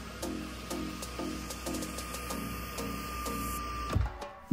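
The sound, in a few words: electric sunshade of Leapmotor T03 panoramic roof moving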